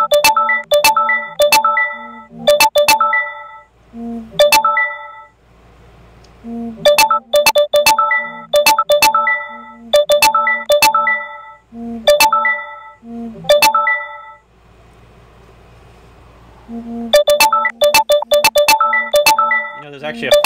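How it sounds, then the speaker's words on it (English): Facebook and Discord notification chimes on a computer ring out over and over in loud, rapid clusters of bright tones, with short pauses between bursts. "the Facebook notifications still take priority over your Discord"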